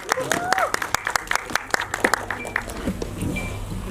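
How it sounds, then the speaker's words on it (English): An audience claps at a Delhi promotion event for the film Ek Villain Returns, with sharp separate claps over a crowd murmur and a voice speaking through part of it. "Can we have a huge round of applause?"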